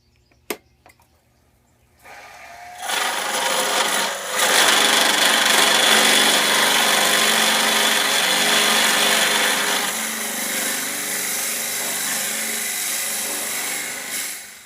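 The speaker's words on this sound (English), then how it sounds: "here is my pin cutting sled that I made for my bandsaw to trim up pin blanks with" Bandsaw with a homemade sled trimming wooden pen blanks, a steady close whirring hum with a harsher rasp as the blade cuts for several seconds before easing off, no voices.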